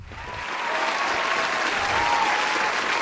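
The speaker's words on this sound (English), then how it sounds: "Yeah, a little round of applause there for you." Studio audience applause on a financial talk show, a dense, even roar of clapping that swells in over the first half-second and holds steady and fairly loud throughout.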